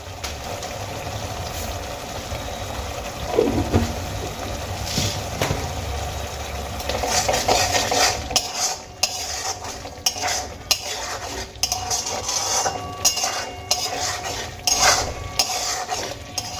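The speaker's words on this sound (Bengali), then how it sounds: "তেঁতুল আমার মিশিয়ে নেওয়া হয়ে গেছে এবার আমি তেঁতুলের টকটাকে ব্যালেন্স করার জন্য এর মধ্যে দিয়ে দেব সামান্য চিনি" Utensil stirs a pan of tamarind and eggplant gravy as sugar is added, with steady scraping and clinking of metal against the pan over a soft sizzle, continuous and fairly close throughout.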